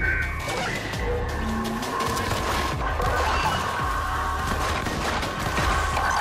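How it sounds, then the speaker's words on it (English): Gunfire in the video game World War Z, a dense, continuous roar of rapid shots and crashing impacts mixed with engine-like rumble and game effects, loud and unbroken across the whole stretch. "That's gunfire! From the bus!"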